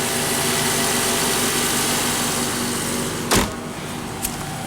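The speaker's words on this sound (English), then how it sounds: "You can see the engine's running here." Steady hum of a 2014 Infiniti Q50S Hybrid engine running nearby, then a brief loud burst and a softer click near the end.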